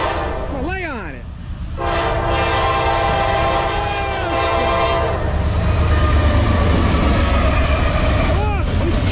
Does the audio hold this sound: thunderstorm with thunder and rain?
no